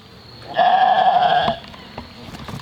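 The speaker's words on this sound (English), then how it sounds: "Just checking out some of our Jacob sheep." A Jacob sheep on a homestead gives one loud, close bleat lasting about a second, a wavering nasal cry that stops abruptly, followed by quiet rustling.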